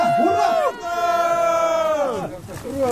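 A crowd at a women's kart race ceremony shouting rhythmic cheers of hurrah in unison, loud and close, with voices rising and falling over each other.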